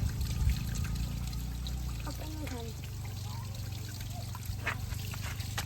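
Spring water trickling and pouring steadily nearby over a low background rumble, with a few brief splashy bursts.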